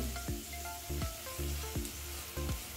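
Ginger-garlic paste sizzles and fries in a pan with coriander while a spoon stirs. A steady hiss of frying runs under regular scraping strokes, close and fairly quiet, with no voices.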